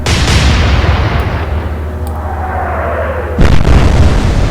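Warship guns open fire in the naval strategy game Atlantic Fleet, a heavy rumbling barrage with a loud boom near the end over a sustained low roar.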